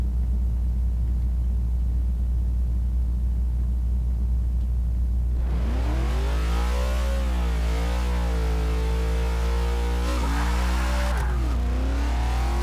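A Dodge Challenger drag build in Forza Motorsport 6 idles with a deep rumble, then launches into a loud rising engine roar that climbs through close-spaced gear changes, with a brief tire squeal.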